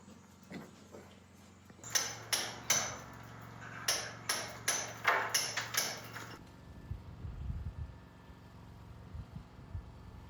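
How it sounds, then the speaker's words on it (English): Sharp, ringing hammer blows chip away plaster and mortar around an upstairs wall opening, about a dozen strikes in uneven bursts, close and fairly quiet, followed by softer rustling and scraping of debris. "clearing plaster and mortar around the upstairs opening we filled in last week"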